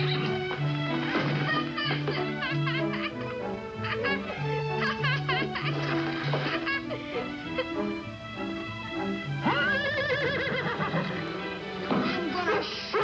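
A skittish horse neighs and whinnies in several bursts, with hoof clops, music and voices around it.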